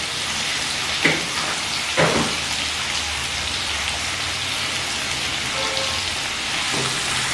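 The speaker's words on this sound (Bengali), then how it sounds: "এবার আলুগুলো নরম হওয়া পর্যন্ত লো ফ্লেমে আমি ভেজে নেব।" Potatoes dusted with turmeric fry on low flame in a pan, giving a steady close sizzle with a couple of sharp clinks from stirring.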